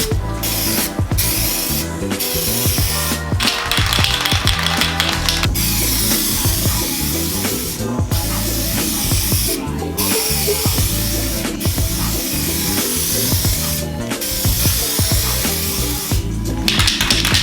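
Spray gun coating a car's re-moulded widebody panels, a steady loud hiss running continuously with brief pauses between passes, close by and alone.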